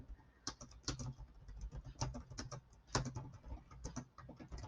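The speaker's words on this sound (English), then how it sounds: "can't talk while I'm typing." Keys clack on a computer keyboard while a comment is typed into a Facebook group post, quick irregular bursts of close, quiet taps with no speech over them.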